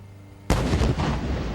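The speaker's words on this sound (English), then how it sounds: "The explosion showed exactly how." An improvised explosive is detonated in a training demonstration: one sudden, very loud blast after quiet, followed by a rolling rumble that keeps sounding to the end.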